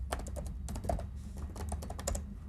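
Rapid keystrokes as a password is typed on a computer keyboard, a close, steady patter of clicks in irregular bursts over a low room hum, with no voices.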